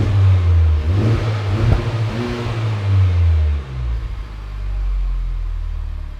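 A Honda Civic Type R four-cylinder exhaust rumbles loudly up close, rising and revving through a rev then settling to a steady low drone, with no talk over it.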